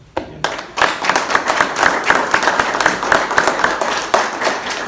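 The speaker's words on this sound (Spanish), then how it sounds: "Para ustedes, un aplauso." Close, loud clapping from a small audience at a talk on Miguel León-Portilla, with individual hand strikes clearly distinct in a brisk, uneven rhythm throughout.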